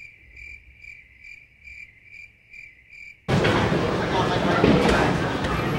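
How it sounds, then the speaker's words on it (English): Rhythmic cricket chirps from a sound effect pulse steadily for a few seconds, then cut off abruptly as a loud, noisy rush takes over. "Play crickets."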